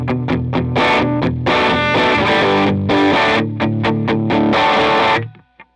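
Electric guitar played clean through dual AC30 amplifiers with no pedals engaged, strummed chords and single picked notes ringing out, then a quick final tap as it stops.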